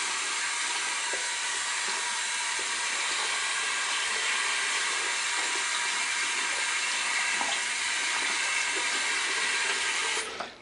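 Tap water runs steadily over a flat brim cap during rinsing, a continuous close hiss and splash that holds evenly for about ten seconds before cutting off.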